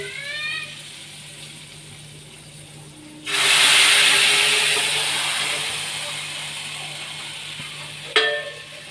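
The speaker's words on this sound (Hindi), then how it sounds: "ऊपर से लगाएंगे इसका तड़का।" Hot tadka tempering is poured over kadhi pakora, setting off a sudden loud, close hiss and sizzle that slowly fades, followed by a brief clink.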